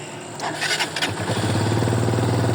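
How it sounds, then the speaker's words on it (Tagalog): A Rusi Flash motorcycle engine cranks briefly with a few rough pulses, then catches and settles into a steady, close idling rumble. "So try natin i-start yung uh, makina."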